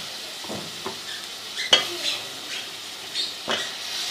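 Potatoes stirred through a frying spice masala in oil make a soft sizzle broken by several scraping stirs and clinks of a spoon against the pot, with no talking.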